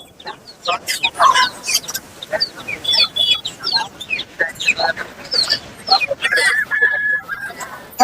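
Several roosters cluck and squawk in bursts, close by, amid a busy outdoor crowd with occasional voices at a Sunday livestock market in Madurai, India.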